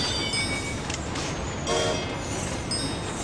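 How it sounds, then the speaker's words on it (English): A fast train in the video game Train Conductor World rushes past as a steady, broad roar that swells slightly midway, with no voices. "oh, that's a fast train"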